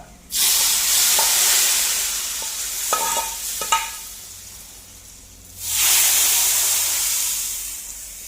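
Tempering is added to a pot of fish curry and sizzles: a loud, steady hissing fry that fades down midway with a few clinks, then surges back loudly as more hits the hot pan.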